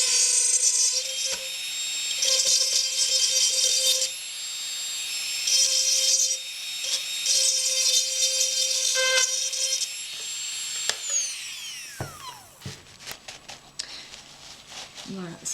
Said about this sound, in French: Donc avec la mini perceuse